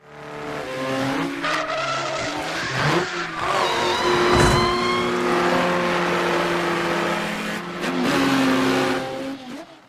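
A race car in a stop-motion animated film, with an engine revving and accelerating, tires squealing and skidding, loud and close, and tonal whines rising and falling over it.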